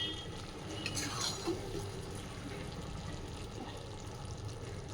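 Fish curry being gently stirred in a pan on the stove, a soft continuous scraping and bubbling with faint utensil clinks, steady and close, with no talk.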